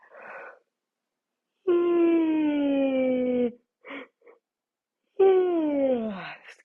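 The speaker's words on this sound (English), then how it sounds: "And if you need to take a yawn like me" A person takes two long drawn-out yawns in a quiet room, each a loud, close, descending moan lasting about two seconds, with soft breaths between.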